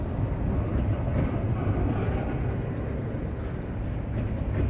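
Freight train with auto rack cars rolling past at a steady distance, a continuous low rumble of wheels and cars with faint squeals, no voices.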